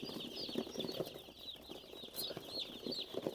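Day-old chicks in a brooder chirp in a dense, continuous chorus of thin, high peeping calls, fairly close and moderately quiet, with faint soft rustling underneath.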